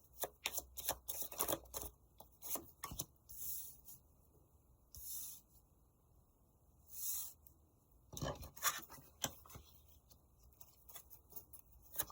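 Tarot cards being shuffled, handled and drawn from piles, soft riffling bursts and papery slides coming in quick clusters with quiet pauses between, close and faint.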